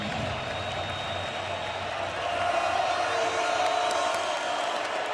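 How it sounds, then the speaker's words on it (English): Purdue college football stadium crowd cheering for the defense on third down against Notre Dame, a broad distant roar that swells partway through, with announcers talking over it. "Finally, the Purdue crowd has woken up a little bit for their defense."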